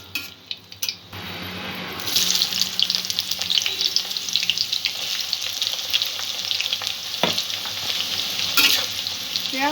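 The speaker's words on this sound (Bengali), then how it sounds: "পেঁয়াজটা হালকা ব্রাউন করে ভেজে নেব" Chopped onions frying in a pan over lightly fried tempering spices, a loud, steady close sizzle with scraping stirs, starting after a couple of soft knocks and continuing without speech.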